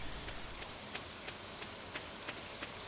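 Rain in the video game Stardew Valley on a spring night, a soft, even hiss of falling rain with scattered faint drop ticks, quiet and continuous, with no talking.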